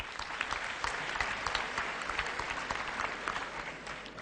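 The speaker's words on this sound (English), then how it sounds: "Dear friends, let's welcome him with a big round of applause." An audience at a professional seminar gives a big round of applause to welcome a speaker: steady, dense clapping from a crowd that carries on for about four seconds, with no talk over it.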